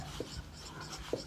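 Faint marker or chalk strokes on a classroom board during a Class 10 maths lesson on polynomials, two brief scratchy taps about a second apart over quiet room tone.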